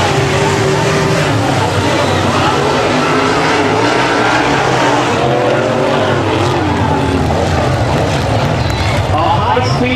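Modified race cars roar around the 250 Speedway oval in a dense, continuous wall of engine noise with passing swells, loud and close, while a voice speaks over it.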